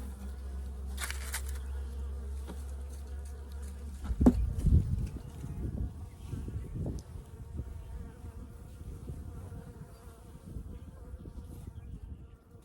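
Honey bees buzzing in an open hive with a small population, a steady droning hum close by, joined by a brief clunk of handled hive parts partway through, with no talking.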